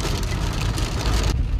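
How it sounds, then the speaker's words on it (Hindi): Sudden rain in the Himalayas near Munsiyari: a steady, dense hiss of rainfall that holds evenly throughout, with a low rumble underneath and a slight thinning of the highs near the end. "अचानक ही बारिश हो गई है शुरू"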